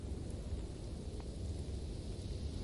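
In the Gladston Valley video game, blustery rain falls as a steady dense hiss with a low rumbling thunder undertone, continuous and moderately loud, with no voices.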